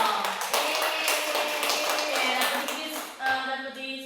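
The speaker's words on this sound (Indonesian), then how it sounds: "tepuk tangan dulu dong." Students in a language classroom clap together briefly, a quick burst of many hands that tails off as a voice resumes.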